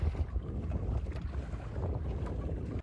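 Fishing boat at sea during the landing of a 160-kilogram tuna, with constant rumbling engine and water noise, heavy wind buffeting the microphone, loud and steady without speech.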